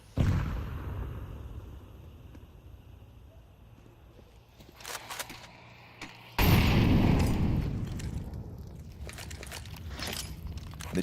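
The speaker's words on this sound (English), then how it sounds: "Kerrigan eats that frag grenade for 75 damage" Frag grenade blast in Counter-Strike, a single loud sudden burst cutting in midway over scattered clicks and footsteps, with a rumbling tail that fades slowly.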